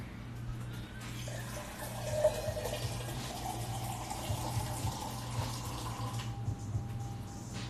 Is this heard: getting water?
yes